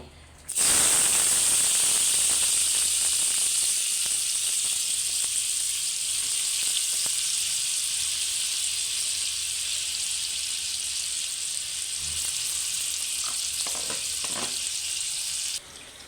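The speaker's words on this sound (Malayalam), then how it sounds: "അപ്പോൾ നമ്മൾ അരിഞ്ഞ് വെച്ചേക്കുന്ന കിഴങ്ങ് അതിലോട്ട് ഇട്ട് കൊടുക്കാം." Chopped potatoes drop into hot oil in a pan and set off a loud, steady sizzle that runs almost the whole time, with a few small clatters toward the end.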